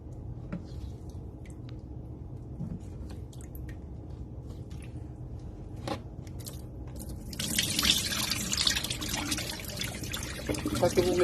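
Rinsing water drains from fish through a colander into a sink. Sparse drips and a soft trickle build to a louder, steady pouring rush in the final few seconds.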